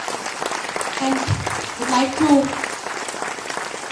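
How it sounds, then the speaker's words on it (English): An audience at a Lions Clubs district installation ceremony in a Bangalore convention hall applauds the district governor. The clapping is moderate and continuous, and someone speaks briefly over it. "So let us clap for your district governor"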